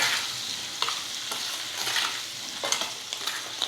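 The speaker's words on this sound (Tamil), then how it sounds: "இதெல்லாம் சேர்த்து ஒரு 2 நிமிஷம் எண்ணெயிலே நல்லா இந்த உருளைக்கிழங்கு ஃப்ரை பண்ணி எடுத்துக்கலாம்." Potato pieces sizzle in hot oil in a pan with ground spice and salt while being stirred, a steady close fry broken by several scraping stir strokes, with no voices.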